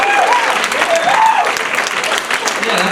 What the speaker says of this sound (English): how about an applause for that?